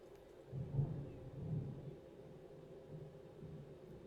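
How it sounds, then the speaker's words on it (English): Thunder rumbling outside during a storm, a faint low rolling boom that swells twice and fades into a soft steady background hiss, distant and muffled indoors. "That's some crazy thunder going on out there."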